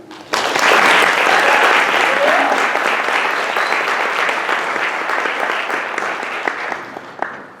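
An audience at a conference keynote bursts into sustained, loud applause welcoming speaker Chanel Haley, the clapping dense and steady for about seven seconds before tapering off.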